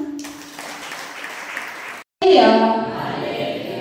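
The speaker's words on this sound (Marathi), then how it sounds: "तुम्ही मोठ्याने टाळ्या वाजवून प्रभू येशूला धन्यवाद द्या" A crowd at a Christian prayer meeting claps, a broad wash of applause that cuts off briefly, then returns louder with a tonal, echoing voice or music rising over it.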